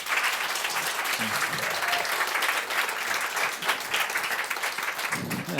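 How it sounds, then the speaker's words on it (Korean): A church congregation applauds in encouragement for a North Korean human rights film director giving a testimony, a continuous moderate clapping that holds throughout, with a few low voice murmurs beneath. "여러분 격려의 박수 한번 더 해주세요"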